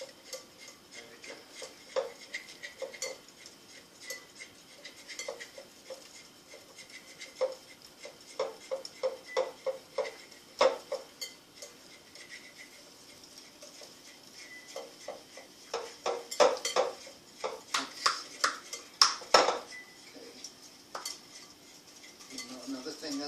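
Dishes and cutlery clatter and clink in a kitchen sink during washing and rinsing while eggnog is being made, with irregular light taps building to denser, louder clusters of rattling near the end, close and with no talk.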